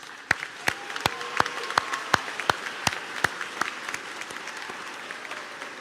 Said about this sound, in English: Join me in thanking them with a round of applause.